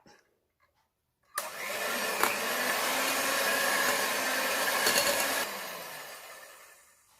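An electric mixer beats plum cake batter as flour is added. It starts abruptly after a short silence and runs as a steady, loud whir for about four seconds, then winds down.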